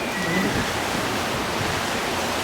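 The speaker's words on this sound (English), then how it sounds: "So that's just millions of gallons of water flowing through such a slim area." Water rushing through the narrow rock walls of Ausable Chasm, a steady, loud, broadband roar with no break, close and continuous, like a churning waterfall below a high bridge.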